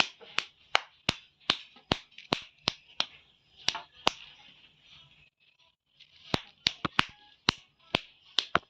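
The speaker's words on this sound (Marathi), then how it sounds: "टाळ्या वाजव टाळ्या वाजव" Sharp hand claps in a steady rhythm, about a dozen crisp strikes, a short pause, then another run of claps at a similar pace, close and clear with little else around them.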